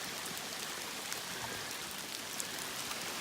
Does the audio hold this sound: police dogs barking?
no